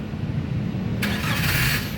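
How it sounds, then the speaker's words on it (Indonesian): A 2015 Daihatsu Gran Max 1.3 blind van engine starts: after a second of low idle-like rumble, a bright cranking burst fires up and settles into a steady running engine close by, with no talk. "nah sekarang coba kita nyalakan mobil ya"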